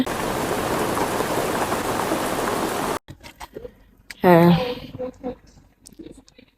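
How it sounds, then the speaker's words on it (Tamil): Heavy rain falls outside, a loud, dense steady hiss for about three seconds, then cuts away as someone talks with faint background sounds behind him. "வெளியில் பாருங்க நல்ல மழை பெய்யுது வெளியில் ரொம்ப மழை பெய்யுது"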